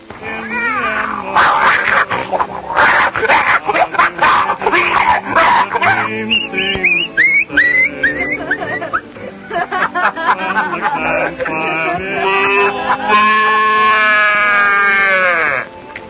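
Voices imitate a cat and dog fight on an old radio western show: loud, close yowling, meowing and barking in quick bursts, rising to a long drawn-out caterwaul near the end.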